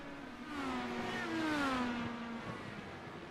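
IndyCar race car in iRacing whines past with a high engine note that rises, sweeps and then falls away as it runs off track, moderately distant and fading at the end.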